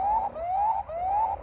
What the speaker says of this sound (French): que j'essaye de partir, il y a l'alarme qui se met en marche.